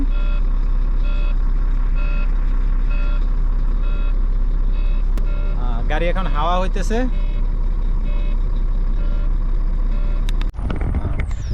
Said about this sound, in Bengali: গাড়ি এখন স্টার্ট হয়ে গেছে